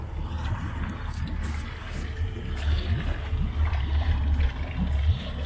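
A newly built 6.8 m boat runs on the water during sea trials, its engine giving a steady, low, throaty rumble with water wash, heard alone and continuous throughout.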